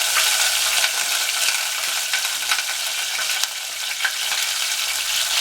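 Vinegar spooned into garlic already frying golden in a pan, giving a steady, close hiss of sizzling oil with a brief flare and crackle, no voices present.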